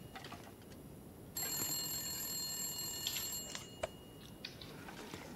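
A telephone bell in the video game The Long Dark rings continuously in a bright, tinny trill for a couple of seconds, over a low background hum.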